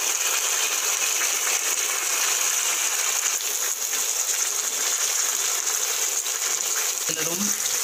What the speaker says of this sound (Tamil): ஜார் மட்டும் கழுவி ஊற்றிருக்கேன்